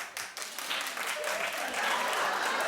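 A television studio audience claps together in a sustained, dense burst that holds steady and close for the whole stretch, with no one talking over it.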